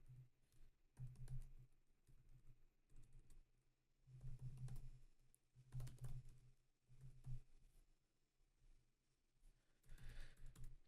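Bursts of keyboard typing come in several clustered runs with short pauses, fairly quiet and close, with no voices.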